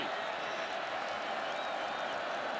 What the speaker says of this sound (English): as the crowd gets loud on 3rd and 3